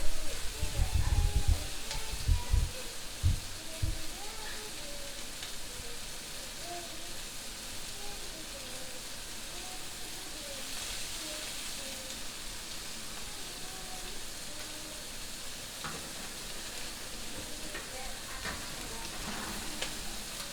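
Pork rack fat sizzles and browns in a very hot pan, a steady crackling fry running throughout with a few louder low knocks of the pan near the start.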